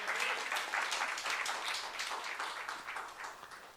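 Church youth congregation clapping during a sermon, a brisk, fairly steady round of applause at moderate level that continues throughout.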